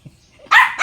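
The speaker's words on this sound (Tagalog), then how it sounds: "Maingay yung tao, maingay din yung aso" A dog gives a single sharp bark close by, loud and abrupt after a near-silent stretch, with a second bark just starting at the end.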